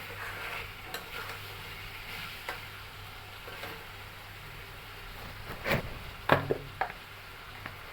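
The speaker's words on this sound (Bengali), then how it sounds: "আলু আর মুরগি ভালো করে ভেজে" Low, steady sizzle of potatoes and chicken frying in oil, broken by a few sharp clinks and scrapes of stirring toward the end.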